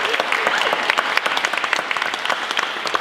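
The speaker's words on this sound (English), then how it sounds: "So round of applause for Mike." Round of applause from a small group at the end of a Prince's Trust team programme course, lively close clapping with distinct individual claps, steady at moderate loudness.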